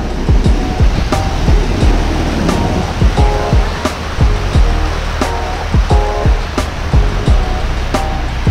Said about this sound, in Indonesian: gede ombaknya di laut selatan langsung ini,